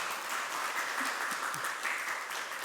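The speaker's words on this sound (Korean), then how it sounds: "우리 박수로 환영하시겠습니다." Steady applause from a church congregation welcoming visiting guests at a Sunday worship service, moderately loud and even, with a few faint murmurs beneath.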